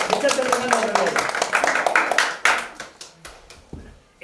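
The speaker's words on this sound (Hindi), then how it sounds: "जोरदार तालियां बजाएं इनके लिए" An audience claps for Mr. Chandrakant Dadoriya at a Diwali event, brisk uneven hand claps that thin out into a few scattered slaps toward the end, with a voice speaking over them.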